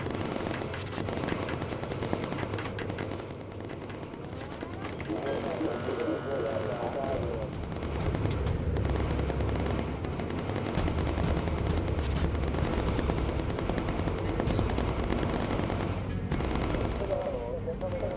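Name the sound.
machine gun fire in the video game Bomber Crew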